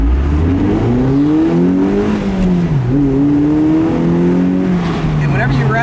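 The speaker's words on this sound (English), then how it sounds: "You rev that motor out, it sounds great." A 2011 Mazda MX-5 Miata with a manual gearbox and a four-cylinder engine revs loudly and steadily, its harmonic engine note climbing and dipping as the revs rise and fall, with speech running over it throughout.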